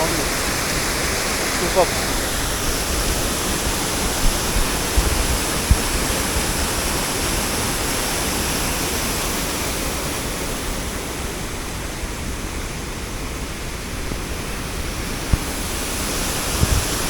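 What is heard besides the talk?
waterfall roaring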